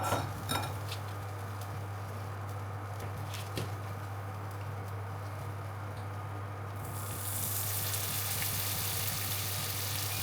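Homemade cordons bleus sizzle in butter in a pan that is running too hot, with a steady crackling fry and occasional clinks of utensils against the pan.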